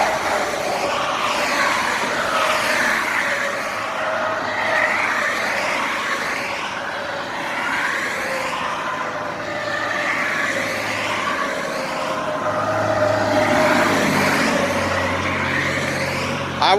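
Cars and trucks pass on a road beside the Appalachian Trail near Harpers Ferry, West Virginia, a steady, fairly close traffic rumble and tire hiss lasting throughout, with no talking.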